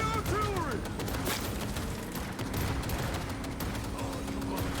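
Heavy artillery fire in the video game Cyberpunk, a dense continuous barrage of booms and crackle, loud and close, with game voices and effects mixed in.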